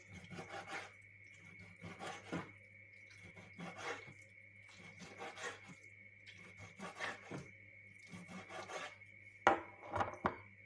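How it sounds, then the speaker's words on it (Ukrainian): Repeated rhythmic rasping strokes of a knife slicing mackerel fillets into pieces on a board, each cut a short scraping burst with brief pauses between. "Філейки нарізаю на такі шматки."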